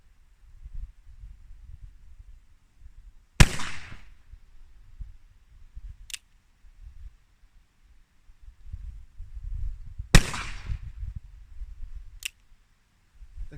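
Two sharp, loud shots from an 1851 Navy revolver with an 1871 conversion ring out several seconds apart at an outdoor range. Each is followed by a fainter click, with handling noise and a low rumble in between.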